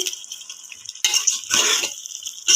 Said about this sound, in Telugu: ఇప్పుడు బాగా కలపదామండి, మసాలా చికెన్కి సరిపోయేలాగా పట్టేలా కలపాలి.